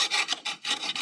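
An old, dull chainsaw file rasps a burr off a Stihl MS291 chainsaw part, a close rhythmic scraping in four or five quick strokes with nothing else heard.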